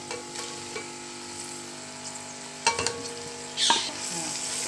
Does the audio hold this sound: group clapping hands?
no